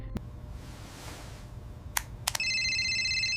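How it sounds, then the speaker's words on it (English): A telephone rings in another room of a house at night, starting with a few sharp clicks and then settling into a steady, bright electronic ring that carries on to the end over a low background hum. "the phone rang in the other room"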